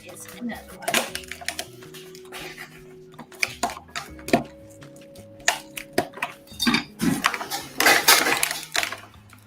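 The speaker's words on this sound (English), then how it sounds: "onions cooking in butter and olive oil while you are chopping up your mushrooms" In a home kitchen, a knife chops mushrooms while onions cook in butter and olive oil, with irregular sharp taps and utensil clinks over background voices talking.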